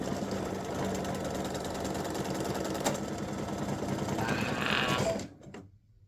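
An embroidery machine stitches freestanding lace with a fresh bobbin, making a fast, steady mechanical chatter of needle strokes that runs close and moderately loud for about five seconds, then stops abruptly.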